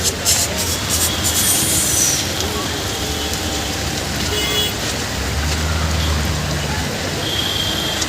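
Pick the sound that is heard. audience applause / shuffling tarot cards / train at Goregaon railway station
train at Goregaon railway station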